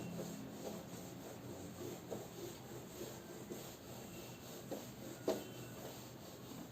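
Steady dry rubbing of an eraser or duster wiping writing off a classroom board during a physics lecture, continuous and fairly faint with a sharper knock near the end, no talking.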